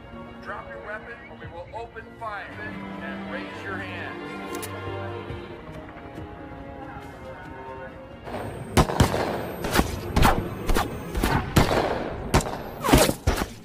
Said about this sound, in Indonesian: pihak polisi pun ramai-ramai langsung membedilnya